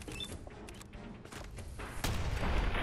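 Gunfire from raiders in the game Fallout 4 rings out as a steady barrage of rapid shots and booms that grows louder near the end, with no talking over it.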